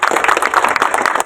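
An audience at a political gathering with an MLA claps continuously and densely at close range, with no one talking over it.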